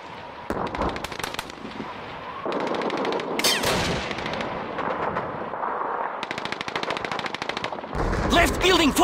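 Call of Duty 2 combat in Stalingrad: rapid machine-gun bursts and rifle shots crack almost nonstop, with a sharp sniper shot standing out near the middle. The battle noise stays loud and dense throughout, and a few shouted voices break through.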